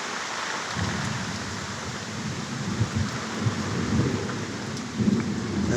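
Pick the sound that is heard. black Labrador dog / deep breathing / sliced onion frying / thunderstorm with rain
thunderstorm with rain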